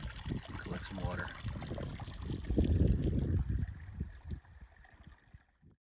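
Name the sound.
water flowing in a creek on a Grand Canyon hike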